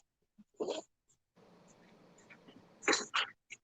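A person sneezes indoors, a short sharp burst up close, followed by a second, louder sneeze with a quick breath after a brief murmur of background noise.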